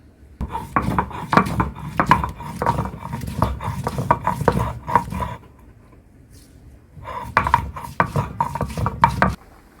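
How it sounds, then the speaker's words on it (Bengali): Cardamom pods ground on a flat grinding stone, giving rhythmic rough scraping and thudding strokes in two long runs separated by a short pause, close and fairly loud. "এটি আমি পাটায় ফিনিশ করে বেটে তারপরে এগুলোর সাথে মিশ্রিত করে দিয়ে দেব"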